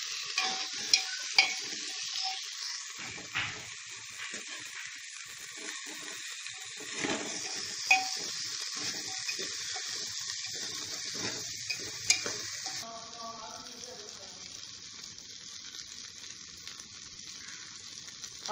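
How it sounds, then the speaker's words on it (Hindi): Peas and cauliflower fry in a hot pan, giving a steady close sizzle with scraping stirs and clinks for most of the stretch before the hiss softens and thins near the end. "देखिए मटर और गोभी भी हमने इसमें डाल दिए, इसको भी 2 से 3 मिनट तक फ्राई कर लेंगे"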